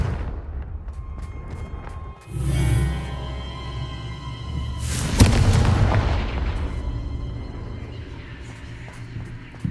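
Confringo spell explosions in Hogwarts Legacy: a muffled boom, then a louder bright blast a few seconds later that fades into a lingering rumble.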